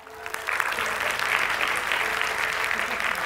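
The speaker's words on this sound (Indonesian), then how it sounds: "Tepuk tangan." An audience breaks into applause at a talk, the clapping swelling in after a brief quiet start and then holding loud and continuous throughout.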